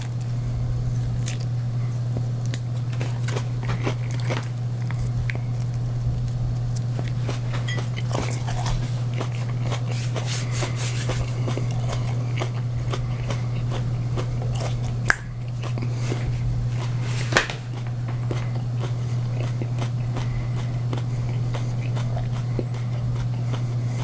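Biting and chewing into a Caramel Primo hot pepper, close and fairly steady, with a few sharper crunches over a constant low electrical hum.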